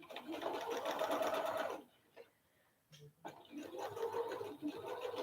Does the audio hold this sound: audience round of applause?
no